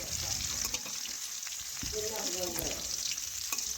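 Pona fish sizzle and crackle steadily in hot oil, frying until red on both sides, a close, continuous spatter with occasional stirring scrapes.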